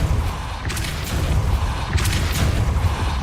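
A Depulso force spell is cast in the Hogwarts Legacy video game, giving two heavy whooshing blasts with deep booming rumble over a continuous loud low roar, about a second apart.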